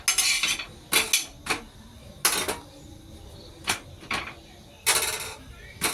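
Oil-free paratha dough rolled out with a rolling pin: a series of sharp, close knocks and clatters at an irregular rhythm, with quiet gaps between.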